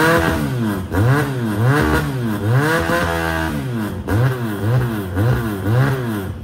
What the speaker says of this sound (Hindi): व्यूअर्स आपने साउंड टेस्ट इस बाइक का देखा